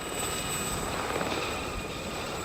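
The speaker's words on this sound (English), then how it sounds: "Forgot about the helicopter." Helicopter in a video game, a steady continuous rotor and engine drone with a high whine held throughout, loud and close, with no speech.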